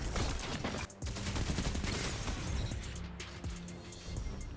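Gunfire crackles in a Destiny 2 Crucible multiplayer match as dense bursts of rapid shots mixed with game effects. The shooting is loud at first, then eases into scattered cracks.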